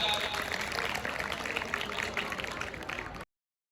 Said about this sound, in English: Give a big round of applause to Brahmaputra